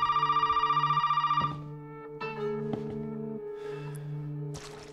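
A telephone in the horror game Resident Evil 7 gives a fast, rattling bell ring for a second and a half before cutting off, leaving low sustained tones and a few soft clicks as the handset is picked up, with no talking.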